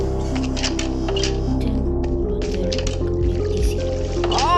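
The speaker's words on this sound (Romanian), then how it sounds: "Mai multă apă! De ce atâta apă?" Water flowing and splashing in Minecraft, with wet squishy, dripping bursts over a steady game music bed, continuous and fairly loud.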